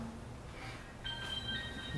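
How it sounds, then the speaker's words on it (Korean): A telephone rings faintly with a steady electronic tone, heard from a distance in a quiet room during a Buddhist lecture. "전화 왔다."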